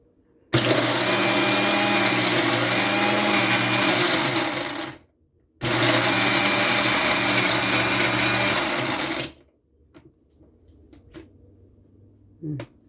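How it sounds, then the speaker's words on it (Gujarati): An electric mixer grinder whips ghevar batter for Rajasthani ghevar: two loud, steady whirring runs of about four seconds each, separated by a short pause and followed by faint clatter, with no talking. "આપણે મિક્સરમાં ફેરવી લઈશું એટલે આપણે બહુ હાથથી ફીણવું ના પડે"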